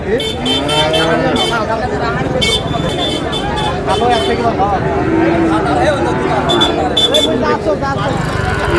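Sahiwal bull calves at a cattle market in Parbatipur upazila, mooing loudly and repeatedly close by, with a busy crowd talking and road traffic rumbling underneath the whole time.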